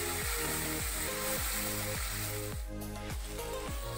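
Onion and garlic frying in a pan, a steady bright sizzle running throughout under a regular, pulsing rhythmic background sound.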